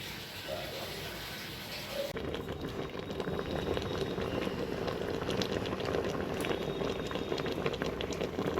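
Mutton curry simmering with added water in a pot, a steady close bubbling and sizzling boil that swells louder after the first couple of seconds and continues evenly throughout.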